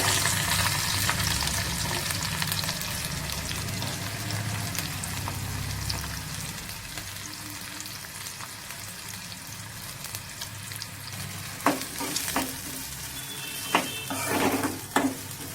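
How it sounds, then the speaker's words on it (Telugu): Green chillies and onions sizzle steadily in hot oil in a pan while prawn fry is being made. The frying hiss is loud and continuous, and a few sharp stirring scrapes and clinks come near the end, with no talk. "ఇవి ఒక 5 మినిట్స్ ఫ్రై అవ్వాలండి ఆనియన్స్"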